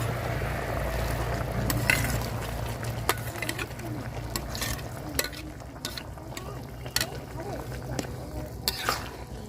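Boiled cauliflower curry simmers in a pan as previously fried sea shrimp are added. A low steady sizzle runs under scattered clicks and scrapes of a spoon stirring close by.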